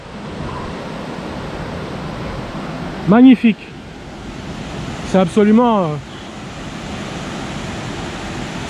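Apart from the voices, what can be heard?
large waterfall, Grande Cascade, New Caledonia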